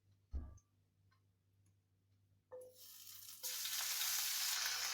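Green chillies and curry leaves drop into hot oil for a chicken gravy, a few quiet clicks and a thud, then a sudden loud crackling sizzle that swells and holds steady to the end.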